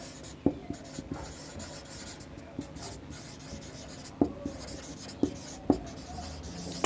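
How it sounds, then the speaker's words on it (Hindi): A pen or chalk writing by hand during a maths lesson on lines and angles, scratchy strokes and sharp taps at close range, irregular and fairly faint, with no talk over them. "यहां लिखते हैं"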